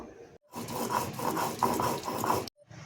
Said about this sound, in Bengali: আদা রসুন আলাদা করে বেটে নেবো এটাও আলাদা এটাও আলাদা করে বেটে নেবো